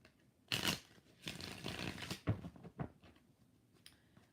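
Tarot cards shuffled by hand in several quick, soft riffling passes, close and quiet, with no talk.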